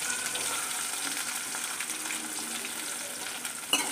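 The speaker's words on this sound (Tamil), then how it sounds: "வெங்காயம் கொஞ்சம் நல்லா வதங்கட்டும்" Onions sauté in oil with mustard seeds and chana dal for a beetroot stir-fry, a steady close hiss and crackle with a sharp clink near the end, and no one speaking.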